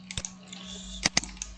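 A few sparse keystrokes clack on a computer keyboard, quiet and close, separated by short pauses over a low steady hum.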